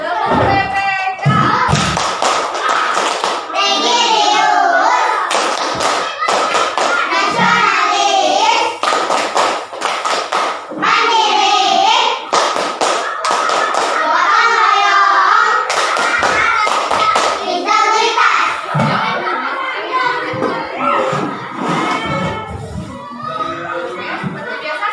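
Schoolchildren in an Indonesian classroom perform a rhythmic group clapping chant, loud bursts of hand claps and thumps alternating with shouted children's voices throughout.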